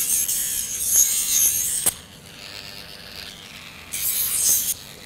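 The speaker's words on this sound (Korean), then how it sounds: "이 부분은 우리가 전동 발톱가리를 사용해서 원을 그리듯이 갈아주시면 부드럽게 갈립니다" An electric nail grinder files a dog's claws in a circular motion, giving two bursts of bright, close rasping whir with a quieter pause between them.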